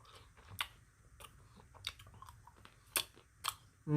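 A frozen chocolate bar is bitten and chewed close up, with sharp crunchy snaps scattered among quieter mouth sounds and a louder burst at the end.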